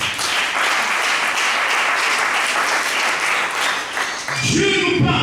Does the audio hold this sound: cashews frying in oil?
no